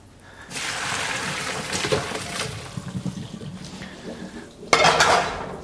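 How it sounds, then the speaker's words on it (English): Cooked Japanese-style mentaiko pasta is tipped into a strainer in a kitchen sink, a steady rush of pouring water with clattering of the pot and metal, ending in a sharp clank and splash, no talking. "Let's go ahead and strain it."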